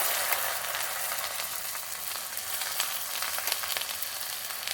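Whole cumin, ginger, coriander and green chilli sizzle and crackle steadily in hot, slightly foaming oil left from frying prawns for a prawn malai curry, a close, even frying hiss throughout with no talking.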